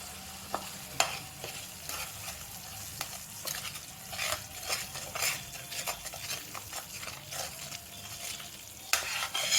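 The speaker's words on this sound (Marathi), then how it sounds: "छान मसाला असा परतून घेते" Spiced masala for misal pav is stirred and sautéed in a pan, with soft scraping strokes and gentle sizzling at close range, quiet and unaccompanied by speech.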